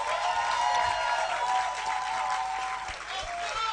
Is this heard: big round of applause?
yes